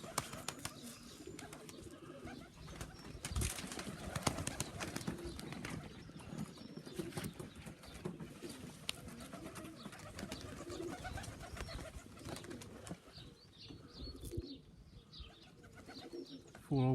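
Young pigeons cooing and flying near a loft outdoors, with soft repeated coos and wing flutters over low background noise, the birds fairly close and faint overall; no talking.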